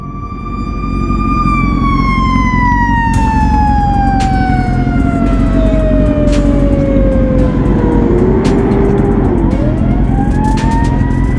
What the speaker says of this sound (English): now I just see a fire department go somewhat their direction